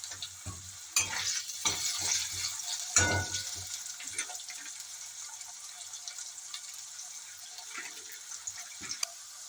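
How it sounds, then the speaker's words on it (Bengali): Potatoes fry in hot oil left over from frying fish heads for a Bengali cabbage dish, giving a steady soft sizzle with a few sharp utensil clatters and stirring knocks early on, then a calmer hiss. "এবার ওই তেলে আলুগুলো একটু ভেজে নেব।"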